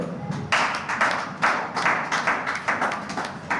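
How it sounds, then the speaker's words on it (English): Audience applause at a live-streamed event honouring a woman in agriculture: a room of people clapping in uneven bursts that swell and dip, fairly close, with no talking. "So let's clap for her."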